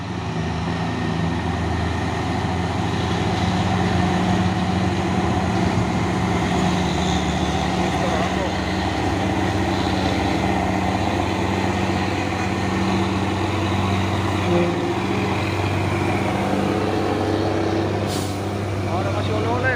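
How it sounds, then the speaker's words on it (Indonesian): A Fuso Super Great box truck engine rumbles steadily and close, a continuous low drone with a faint hiss of air near the end. "Masuk lagi ya, truk box Fuso Super Great."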